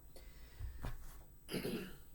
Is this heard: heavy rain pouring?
no